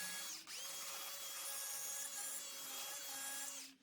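A power carving tool grinds into a 2-inch-thick pine slab as a hand is shaped and its corners trimmed, giving one steady, loud, whining buzz close by that cuts out near the end.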